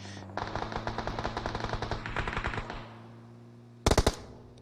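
Rapid automatic gunfire in a competitive battle royale video game, a long fast burst of shots followed by a pause and then a short, sharper volley near the end, with no speech.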